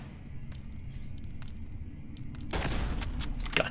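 Laser turret firing in Fallout London, a rapid run of sharp zapping shots over a low game rumble, growing denser and louder in the last second.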